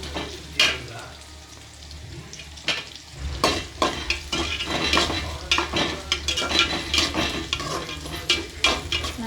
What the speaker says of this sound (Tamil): நறுக்கி வச்சுருக்கிற வெங்காயத்தை இதில் ஆட் பண்ணுவோம். ஆட் பண்ணி நல்லா வதக்கி விடணும்.